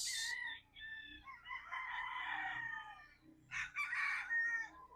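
A battle stag rooster at a game farm crows loudly twice, a long drawn-out call followed by a shorter second crow, with clucking and faint farm background between them.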